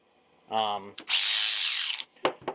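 A Snap-on brushless 3/8-inch cordless ratchet whirs steadily for about a second, close by, between short bursts of speech before and after.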